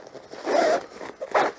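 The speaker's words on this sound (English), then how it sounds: "YKK zippers and zipper pulls" A YKK zipper on a tripod carrying bag is pulled in two quick, close strokes, the second shorter, with a faint rasp between them.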